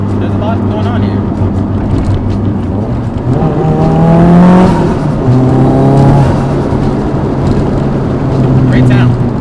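Nissan Silvia S15 Spec R running at steady revs, its engine note rising and falling over two smooth climbs in a continuous close drone, with interior rumble beneath and no speech.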